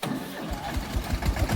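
A tractor engine runs during baling work in a field, throbbing with a steady low rhythmic knock close by and no voices over it.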